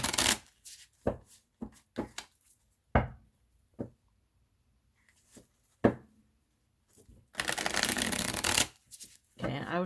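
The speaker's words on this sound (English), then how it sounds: "I'll shuffle 3 times, and then I overhand shuffle until a card pops out" A tarot deck is shuffled in a series of quick riffles and taps, crisp card flutters separated by short pauses, ending in a longer sustained riffle, close and clear.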